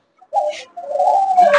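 Pet birds on a bird farm give a close, clear cooing call: one short coo followed by a longer, drawn-out one, with no talking.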